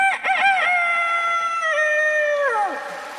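A voice imitates a rooster crowing at dawn on a Korean TV singing contest staged at Seoul's Garak market: one loud, close, drawn-out cock-a-doodle-doo with rising then falling notes, alone with no other sound.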